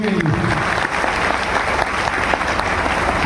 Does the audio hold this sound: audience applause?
yes